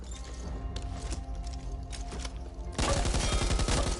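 An M249 machine gun fires in the zombie shooter Back 4 Blood, first a run of rapid, sustained shots over background game noise, then a louder, denser burst of automatic fire close up.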